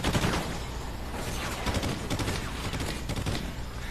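A golden gun firing in a Call of Duty Ghosts multiplayer match, a dense continuous rattle of loud shots lasting the whole moment, with no clear talk over it.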